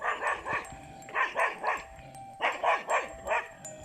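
A dog barks in quick bursts of three or four, pausing between groups, fairly close and loud with no talking.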